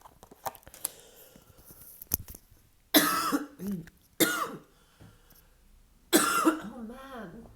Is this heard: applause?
no